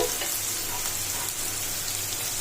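Onions, green chilies and curry leaves frying in oil for potato kurma, a steady, even sizzle and crackle with no break, close and moderately loud.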